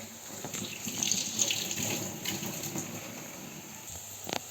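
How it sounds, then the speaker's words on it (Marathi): Pav vada shallow-frying in oil and browned on both sides, giving a steady close hissing sizzle with faint crackles that runs throughout without talk. "आता हे तेलामध्ये छानपैकी दोन्ही बाजूने भाजून घ्यायचं"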